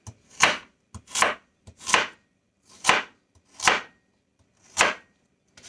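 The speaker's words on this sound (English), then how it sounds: "I like to use a whole carrot, rinse it off, skin and all, and use the whole thing." Six crisp knife chops through whole unpeeled carrots for chicken broth, fairly evenly spaced thuds on a cutting board, close and clear, with faint light taps between strokes and no speech.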